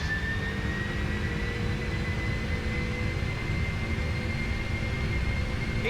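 Engines of a PMDG Boeing 747-400 at takeoff thrust in the FSX flight simulator make a steady, loud broadband roar with a faint rising whine, continuous and unbroken, with no speech.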